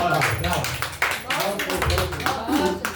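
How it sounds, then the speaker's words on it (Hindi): Audience clapping at a Hindi poetry recital and award event, a patter of claps mixed with overlapping voices and chatter throughout. "एक बार भाई जोरदार ताली बजाइए"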